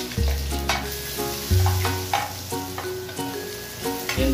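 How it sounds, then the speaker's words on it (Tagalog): Onion and garlic sautéing in a pan for chicken delight sauce, a steady close sizzle broken by repeated stirring scrapes, with no voices. "So, higigisa na ngayon natin ang onion and garlic."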